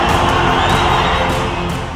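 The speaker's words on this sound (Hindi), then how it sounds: "सामने बैठी भीड़ का शोर पूरे इलाके में गूंजने लगा" A large crowd at an outdoor oath ceremony in Vijayawada roars and cheers as Pawan Kalyan arrives on stage, a dense, loud, continuous swell of shouting voices that tapers slightly at the end.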